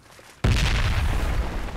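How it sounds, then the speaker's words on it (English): A grenade detonates in the tactical shooter Project Reality, a sudden heavy boom after a brief quiet moment, its deep rumbling blast sustained and loud to the end. "He just threw a grenade."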